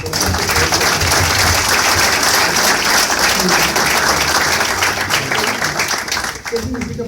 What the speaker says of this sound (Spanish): pido un aplauso por esa idea importante